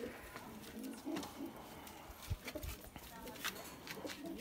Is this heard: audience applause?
no